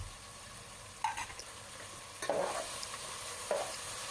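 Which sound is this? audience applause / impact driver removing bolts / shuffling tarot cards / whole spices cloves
whole spices cloves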